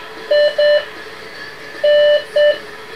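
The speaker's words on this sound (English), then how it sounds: "It's a metal detector." A cheap handheld metal detector gives two pairs of short electronic beeps, close and clear over a faint background hum.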